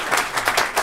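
Audience at a live comedy show clapping in a brief burst, a handful of distinct claps in quick rhythm, close and fairly loud.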